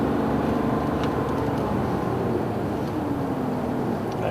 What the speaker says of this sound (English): And the sound is like this with the hydrogen when you accelerate.